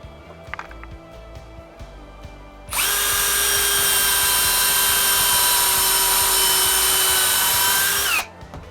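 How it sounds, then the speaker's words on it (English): A power drill bores a pilot hole into an oak bench leg, one steady high whine lasting about five seconds up close, with quiet workshop handling noises before it. "I'm going to eyeball it and put in a pilot hole and some screws"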